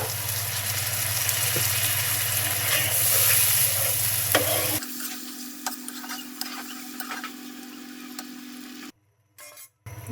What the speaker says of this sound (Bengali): দুটি তেজপাতা দিয়ে দিচ্ছি, আর একটু ঝোল দিয়ে দিচ্ছি